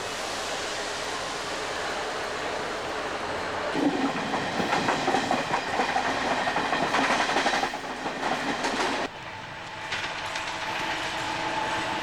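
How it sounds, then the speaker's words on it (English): The Deccan Express, a super business express train, departs a Mumbai station with a steady rolling rumble and rhythmic clickety-clack of carriages that swells midway, then eases back. "The Deccan Express, a super business express train, departs."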